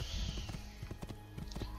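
Horse hooves gallop in the video game Assassin's Creed 2, a rapid rhythmic clip-clop with a steady beat, clear and close, with no speech over it.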